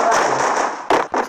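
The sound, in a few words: gunfire in a mobile shooter video game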